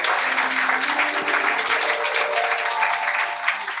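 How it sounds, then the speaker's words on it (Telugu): A church congregation claps loudly in praise of God, a dense, continuous roar of applause that holds steady for a few seconds with no voices over it. "ఒకసారి దేవుని గట్టిగా చప్పట్లు కొట్టండి."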